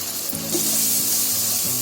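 Asafoetida hits a spice masala of chilli and coriander powder in a hot pan, giving a brief, steady sizzle close up with no talking.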